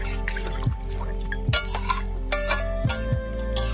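Water poured into a pot of cooking chicken curry, with drips and splashes over a sizzling background, close and moderately loud.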